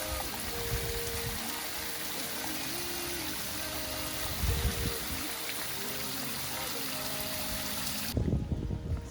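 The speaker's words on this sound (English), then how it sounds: "I got water shooting out of both ends." Water shooting out of both ends of a garden hose, a continuous spraying hiss and splash under faint tonal hum, with bursts of louder splattering and a brief drop near the end.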